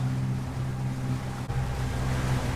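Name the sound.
boat motoring on calm sea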